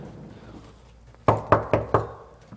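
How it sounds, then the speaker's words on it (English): Four firm knocks on a door, loud and close, evenly spaced in a quick series after a moment of quiet room sound. "I'm going to bang on this door here."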